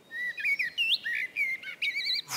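A blackbird sings a run of clear, fluted whistled phrases with short pauses between them, close and fairly loud against a quiet background, ending in a brief noisy rustle.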